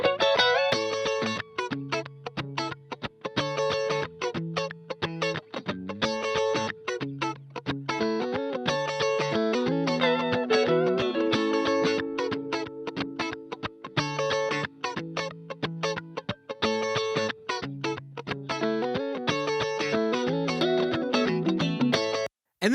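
Electric guitar playing tasty funk licks, bright and percussive with choppy muted strums and quick single-note fills, loud and upfront over a steady groove.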